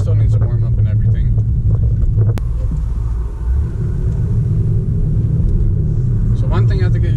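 A 2019 Mercedes-AMG GT 63S 4-Door is driven gently on wet roads while still warming up, giving a low steady cabin rumble under someone talking, with a brief change in engine tone partway through.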